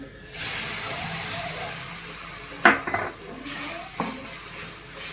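Milk poured into roasted flour (maida) in a hot pan for white sauce: a steady sizzling hiss broken by a few sharp clinks of utensil against pan and bursts of spitting as the liquid hits.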